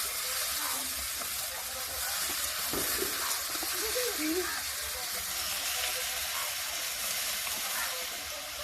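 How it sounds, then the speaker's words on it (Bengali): Beetroot dropped into a hot wok bursts into a loud, steady sizzling hiss that holds evenly throughout, with people talking faintly underneath. "কড়াটা গরম হয়ে গেছে, বিটটা দিয়ে দিই।"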